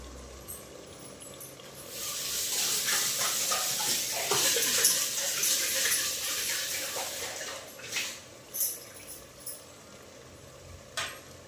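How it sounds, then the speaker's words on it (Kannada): Water gushes into a hot pot of roasted ingredients for tomato bath, hissing and bubbling for several seconds, then a few stirring scrapes and clinks. "ಈಗ ಅದಕ್ಕೆ ಕರೆಕ್ಟಾಗಿ ನಾನು ನೀರು ಹಾಕ್ತೀನಿ"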